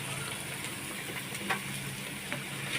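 Jackfruit cooking with prawns in a kadai gives a steady, soft sizzle and crackle of frying, with a few brief stirring clinks and scrapes breaking through the continuous hiss.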